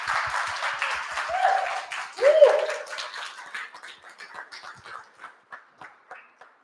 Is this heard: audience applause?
yes